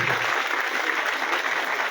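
Steady, dense audience applause at a village welcome gathering for a social worker, loud and continuous from start to finish with no talk over it.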